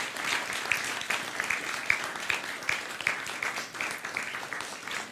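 A graduation crowd at John Adams Academy applauds the parents, a dense, sustained round of clapping with sharper individual claps and a few cheers standing out, filling the hall without a pause.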